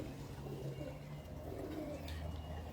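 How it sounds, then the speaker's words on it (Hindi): A pigeon of a Multan breed coos softly and steadily in low, rolling tones, fairly close, with faint background noise. "अब ये कबूतर जो होता है ना, ये बाबर वाले कबूतर का बेटा है"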